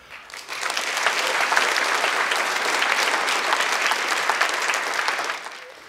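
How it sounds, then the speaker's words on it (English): Steady audience applause from a crowd at a float conference, dense and sustained for several seconds, rising quickly at the start and tapering off at the end, with no talk over it. "I just want to have another round of applause for this industry"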